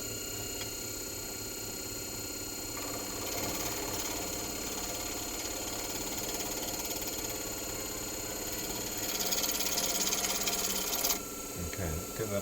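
A lathe spins steadily, turning an ebonite pen section mounted on a two-ended mandrel, giving a continuous mechanical whir with a rasping, rubbing layer that grows louder partway through before easing off.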